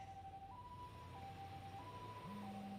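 An ambulance siren in the video game Lost Judgment, a faint, distant two-tone wail alternating steadily over a low traffic hum, with a second lower tone joining near the end.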